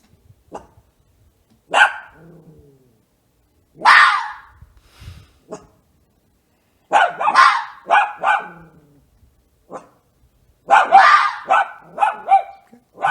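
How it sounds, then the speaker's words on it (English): A dog gives a handful of short, yelping barks in bursts separated by silences, close and fairly loud, some clustered in quick pairs. "a dog that was raised by cats and tries to bark."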